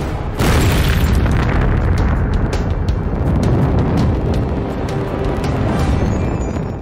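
AC-5 rocket exploding on its launch pad, a huge sustained roaring blast that hits suddenly and rumbles heavily for several seconds.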